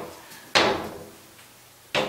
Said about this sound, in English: Four big linen drawers. Very functional. They pull out all the way out.